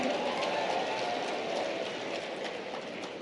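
Audience applause at a health services conference in Bhopal: dense, steady clapping from a large crowd, continuous and even throughout with no voices on top.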